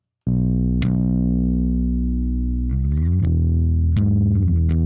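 A bass tone run through a compressor with attack and release at their fastest gives sustained, buzzy distortion, with a few sharp clicks and gritty bursts as new notes hit.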